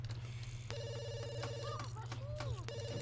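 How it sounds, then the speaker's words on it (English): A telephone in The Sims 2 rings in repeated electronic trills, fairly faint, with a steady hum underneath and a voice speaking in the background. "I am not answering that phone."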